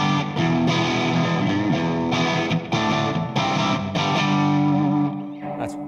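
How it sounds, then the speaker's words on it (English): An electric guitar plays through an amp set to a British-style distortion, with the cabinet switched to closed back for a compressed tone. Chords ring out loud and gritty for about six seconds, with no talking. "That's what's described as a kind of British distortion."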